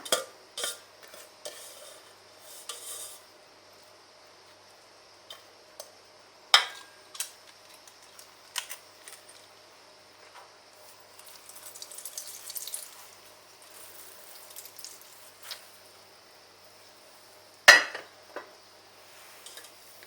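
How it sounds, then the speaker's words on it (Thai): A potato ricer presses the water out of one cucumber in a kitchen, giving scattered metallic clinks and clatters with light dripping and trickling water, plus one sharp clank near the end. "เทคนิคการบีบน้ำแตงออกก็นี่ค่ะเครื่องบดมันฝรั่งนะคะ"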